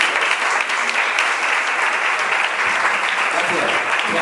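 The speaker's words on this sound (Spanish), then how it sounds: "Nuestro aplauso para nuestro ponente" An audience at a gastronomy event applauds a speaker, dense steady clapping filling the room from start to finish, with some voices mixed into it.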